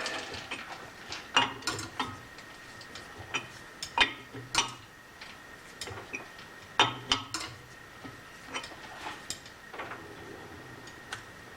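A ratchet tightens bolts on a roller under repair, irregular bursts of quick metallic clicks repeating over several seconds, close and fairly quiet against a low background hum.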